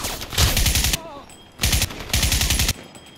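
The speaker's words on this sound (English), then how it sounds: "Perhaps the best indicator of this is the sound effects for gunfire." Rapid automatic gunfire from the Crysis remaster, loud bursts of repeated shots that cut off abruptly into near silence, then resume in two more sustained volleys with no echo or tail.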